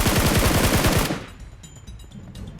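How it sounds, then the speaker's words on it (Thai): Rapid automatic gunfire in PUBG Mobile, a loud close burst of about a dozen quick shots lasting roughly a second, then quieter game ambience with faint clicks. "ยิงกดแล้ว แต่เราว่าเรายิงรีบไปหน่อย"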